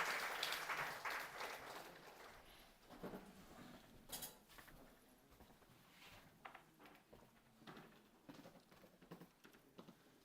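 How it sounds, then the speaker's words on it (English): Audience applause at a valedictory session of an academic conference, a faint, uneven patter of clapping from a hall that surges and fades in scattered bursts for several seconds. "Please give us a big round of applause"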